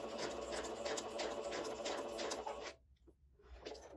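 Sewing machine stitching slowly through paper instead of fabric, a close, steady rasping chatter that stops abruptly when the presser foot is lifted, then starts again faintly.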